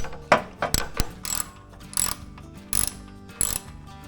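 A small bolt comes out of a panel on a John Deere X350 lawn tractor, heard as a close ratchet clicking in short bursts with sharp metallic ticks and pauses between them, with no talking.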